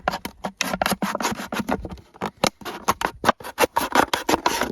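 An Inhul "Narodnyi" knife slicing through material in repeated short strokes, a quick rhythmic series of close, crisp rasping cuts with brief pauses between them.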